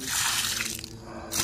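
Water pours and soaks into the soil around the base of a young Musang King durian tree, a close, steady wet splash and trickle with a brief gurgle at the end.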